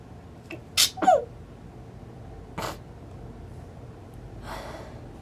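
A person's sneeze bursting out close by, a sharp breathy blast with a quick follow-up, then a quieter sniff and faint breathing in an otherwise quiet indoor space.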